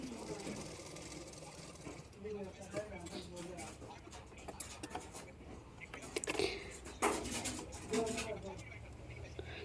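A sewing machine runs in bursts as it stitches a puff sleeve onto a blouse, its steady mechanical whir close by beneath a woman's ongoing speech.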